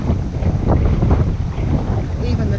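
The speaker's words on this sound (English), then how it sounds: "Today, the sun is out, but it's still very, very windy." Strong wind buffets the microphone in a steady, loud rumble beside a narrowboat, with a continuous roar and gusty low-end pressure throughout.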